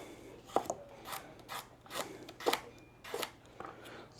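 Knife chopping salad ingredients in half for a homemade Chick-fil-A style salad, giving a series of about eight short, crisp cutting strokes at a steady rhythm, close and fairly quiet.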